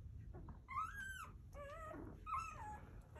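Newborn Pyrenees boxer mix puppies whimper in faint, high, wavering cries, several short whines in a row over a low background rumble.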